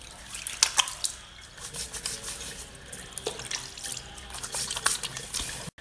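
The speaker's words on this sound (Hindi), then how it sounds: "मैं इसको वॉश कर रहा हूँ।" Tap water running and splashing at a sink while a face mask is rinsed off the skin, with irregular hand splashes and drips, fairly close and steady, no talking.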